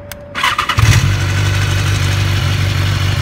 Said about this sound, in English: Now let's get some of that lovely startup sound.